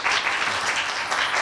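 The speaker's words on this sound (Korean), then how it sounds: "박수 한번 쳐주세요." An audience claps at a university lecture event in a Korean university hall; dense, steady applause from many hands fills the short moment at moderate loudness, with no talk over it.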